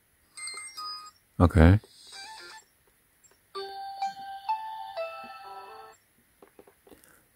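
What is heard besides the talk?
phone ringtone preview on AT&T Radiant Max smartphone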